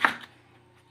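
A single crisp knife chop on a board cuts tomato or eggplant for pakbet, close and short, fading quickly into quiet.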